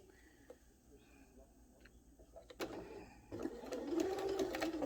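A sewing machine stitching a fabric mask with the presser foot down, starting quietly and building into a steady fast mechanical whir with rhythmic needle clatter, set close and clear.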